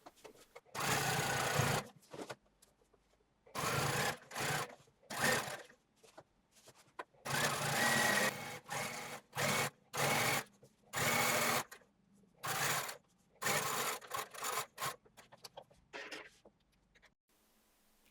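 A sewing machine stitches a seam on a pair of jeans in a series of loud, close bursts of rapid whirring, separated by short pauses.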